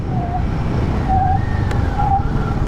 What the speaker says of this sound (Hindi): ये यहाँ पर जो ABS इंट्रूशन है ना उसकी आवाज़ है